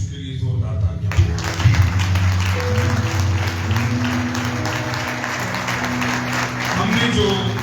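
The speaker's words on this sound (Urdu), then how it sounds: "آئے ایک بار پھر زندہ یسوع کے لیے زوردار تالیاں." A church congregation at a Sunday service claps loudly, a dense burst of applause over sustained music or organ-like tones and possible voices, close and loud throughout.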